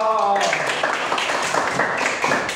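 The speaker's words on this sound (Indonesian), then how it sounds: "Oke, tepuk tangan untuk Mas Koko." A group claps together in steady applause, fairly loud and sustained, after a brief bit of speech at the start.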